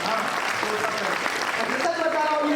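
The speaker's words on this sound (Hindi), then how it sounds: "जोरदार तालियां बजा रहे" At a Hindi comic poetry recital, the crowd claps in a brisk burst that thins toward the end as voices and chatter come through over the fading applause.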